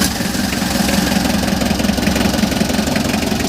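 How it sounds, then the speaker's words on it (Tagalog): A Mitsubishi L300 van engine with an overheating problem runs at a steady idle, loud and close, a continuous rumbling drone with a fast, even chug and no talking. "so try nating i-start"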